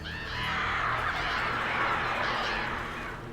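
A crow caws in the Alan Wake Remastered video game, a harsh, raspy call sustained across a few seconds at moderate loudness with no talking.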